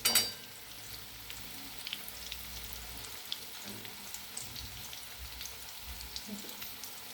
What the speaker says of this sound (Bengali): এই চিকেন এগুলো ভাজা হচ্ছে।